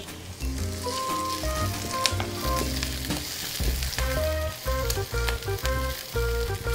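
Onions, garlic and ginger fry in a pan for a Filipino pesang lapu-lapu fish dish, giving a steady close sizzle throughout with sustained tonal sounds layered above it.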